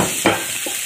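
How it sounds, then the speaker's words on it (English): Shrimp dropped into a hot pan sizzle steadily, broken by a couple of brief stirring or scraping clatters close by. "So, guys, ilalagay na natin yung ating shrimps, hipon."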